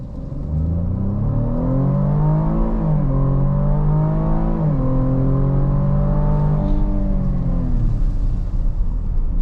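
A 2024 Cadillac XT5 Sport with a 3.6-liter V6, nine-speed automatic and all-wheel drive accelerates hard in sport mode. The engine note climbs loudly in pitch, dropping back at two quick gear shifts, then pulls steadily on with no talk.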